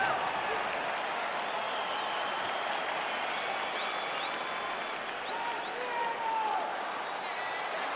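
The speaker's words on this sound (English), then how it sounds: "crowd getting excited as this fight gets underway" Arena crowd in EA Sports UFC 4 cheering as a fight begins, a dense, steady roar of applause and excited voices filling the whole stretch at high volume.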